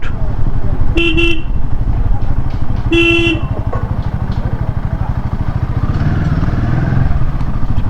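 Motorcycle and vehicle traffic at the Katwa Ballavpara ferry ghat, with a steady engine rumble close by and two sharp horn toots early on, over a continuous busy roadside din.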